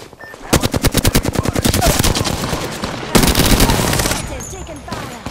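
Sustained automatic gunfire in the video game Apex Legends, with rapid evenly spaced shots for about two and a half seconds, a short break, then another loud burst during a firefight.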